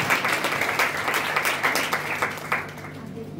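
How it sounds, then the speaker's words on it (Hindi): A church congregation claps enthusiastically during a sermon, a steady wash of many hands applauding together at moderate volume, continuing throughout without a break. "उस उम्मीद कलाम के लिए जोरदार तालियां बजाएं।"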